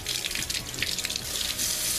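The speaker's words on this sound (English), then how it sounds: "Just put some cold running water over it." Cold tap water runs in a steady, close splashing stream over a sea salt ice cream mold in a kitchen sink, continuous for a couple of seconds with no talking.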